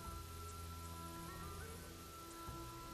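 A steady wash of rain patters on a surface, joined by a constant low engine-like hum and tone.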